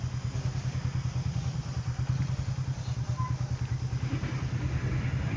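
A motorcycle idles close by on a road before dropping into a pothole, its engine a steady, loud, pulsing chug with no single clear impact standing out.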